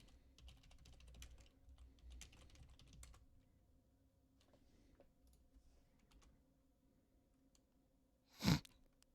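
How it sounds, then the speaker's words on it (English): Commands typed on a computer keyboard during a PowerShell hacking session, soft irregular key clicks running steadily at close range, ending in one louder sharp keystroke or thump near the end. "I'm just going to start typing all my commands at this point"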